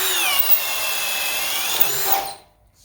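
A Ryobi 18V compact cordless brushless drill driver whines loudly and steadily at high speed for about two seconds, then spins down and cuts off into near silence.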